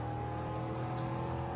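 NASCAR race car at full throttle in a racing video game on the Czech circuit, a steady sustained engine drone holding a constant pitch, moderately loud with no voices.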